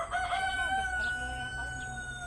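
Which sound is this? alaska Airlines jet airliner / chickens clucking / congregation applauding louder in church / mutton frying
chickens clucking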